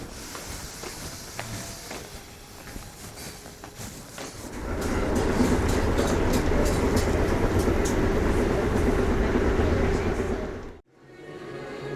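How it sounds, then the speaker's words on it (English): Train pulling into a station on a long November trip, a steady loud rumble building after a quieter stretch of station ambience, with a brief cut near the end. "this is our train being announced now"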